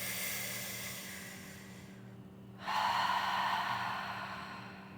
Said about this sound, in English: Just doing a couple breaths here.